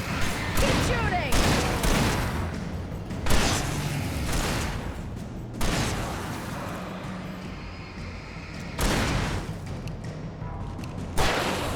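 Gunfire in the horror action game Alan Wake: repeated loud shots land every couple of seconds over a dense, rumbling background of combat noise, with voices now and then.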